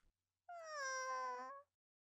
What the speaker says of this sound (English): She walks over to the injured cat.